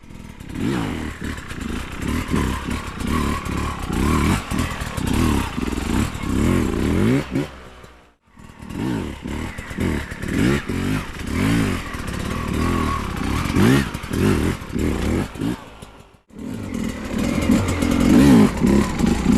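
A 2022 Sherco 250 SE Factory carbureted dirt bike is ridden nearby, its engine buzzing and revving in steady rhythmic pulses, dropping out briefly twice before climbing loud again.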